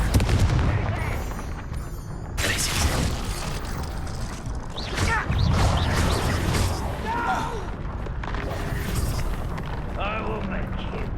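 A Confringo blasting spell explodes in the Hogwarts Legacy video game amid a busy fight mix of booms, mechanical clanks and bursts, with voices talking over the action.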